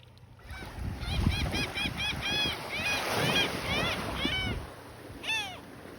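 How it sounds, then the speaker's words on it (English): A laughing gull on Pass-A-Grille Beach gives a long run of nasal, laughing calls, repeated rapidly over several seconds, then a final call after a short pause, all over low wind and surf rumble. "That was a laughing gull laughing at me."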